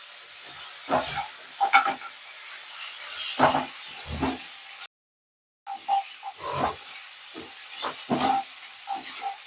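Drumstick (sajna) pieces and half-boiled potatoes sizzle in hot spices in a pan for a Bengali bhetki fish curry, a steady frying hiss with intermittent stirring clatters, briefly cut to silence midway.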